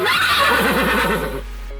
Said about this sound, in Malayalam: വികൃതി കുതിര.